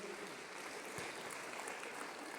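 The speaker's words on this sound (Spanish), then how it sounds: "dale otro aplauso al Espíritu Santo por su presencia en medio de" Applause from a congregation at a Spanish-language church service fills the space with steady, dense clapping that holds an even level throughout, without any voices over it.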